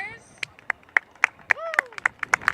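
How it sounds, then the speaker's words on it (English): Scattered claps ring out at a steady pace, a small group applauding at a college soccer game while voices chatter and a sliding whoop rises over them. "Give a round of applause for our visitors."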